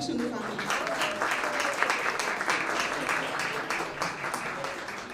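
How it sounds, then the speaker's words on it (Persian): An audience at a first-grade alphabet celebration at Shahid Fahmideh school in Yerevan applauds for an ambassador, a continuous patter of many hands with some voices underneath. "لطفاً تشویقشون بفرمایید."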